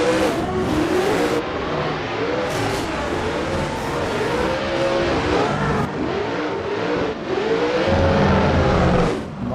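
Drift race cars at a Formula Drift event at Soldier Field in a racing video game, engines revving hard and rising and falling in pitch with tire squeal, a steady loud roar throughout with no talk.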